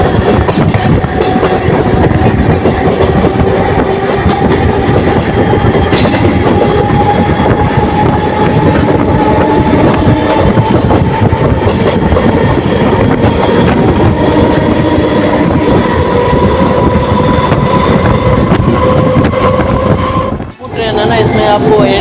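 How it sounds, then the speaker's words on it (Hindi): A MEMU passenger train, 75213 Raxaul–Mehsi, rolls out of Bapudham Motihari station in Bihar, its steady loud rumble and wheel clatter continuing throughout with someone talking over it. "हमारी ट्रेन आधे घंटे डिले के साथ हमारी निकल चुकी बिहार के इस चंपा के बापू धाम मोतिहारी रेलवे स्टेशन से"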